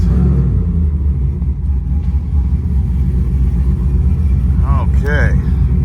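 A lifted Ram 1500 pickup with a Hemi engine making 922 rear-wheel horsepower rumbles steadily with a deep, loud engine drone while driving, and a voice briefly speaks near the end.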